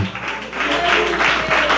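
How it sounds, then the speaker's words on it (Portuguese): Church congregation clapping their hands in worship, a steady dense patter of claps throughout with a faint low hum beneath. "Pode se assentar e bater as palmas para o nosso Senhor e Salvador Jesus Cristo"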